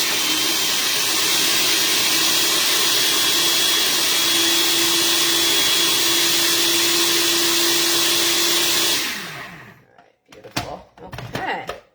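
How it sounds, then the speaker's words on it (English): A blender whirs steadily and loudly, pureeing garlic and cilantro for about nine seconds before cutting off abruptly, followed by brief clatter and a voice. "So you can blend it as much as you wish."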